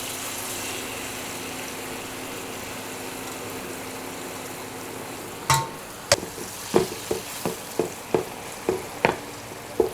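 Tomato paste frying in a pan with pepper spoonfuls nearby: a steady low sizzle for several seconds, then a run of sharp, rhythmic scraping clacks as a spoon stirs against the pan, close and clear.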